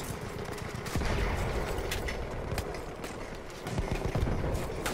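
Sustained suppressive gunfire from Battlefield 1, a dense, continuous crackle of rapid shots with heavier bursts near the second and fourth seconds, loud and layered like a battlefield firefight.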